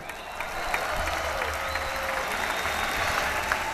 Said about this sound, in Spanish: Un aplauso para la belleza paraguaya